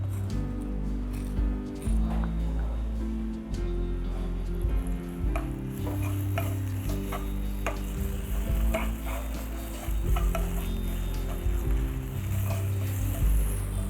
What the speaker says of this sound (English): And then I will saute the garlic.